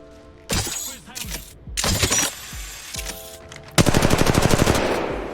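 Rapid automatic gunfire in Apex Legends Mobile during grappling, with several loud bursts separated by short gaps and then a final long sustained volley, up close with metallic game effects.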